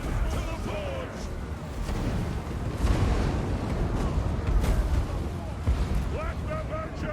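Explosions rumble through a video game battle involving dwarves, a steady barrage of booming blasts and crashes alongside shouting voices.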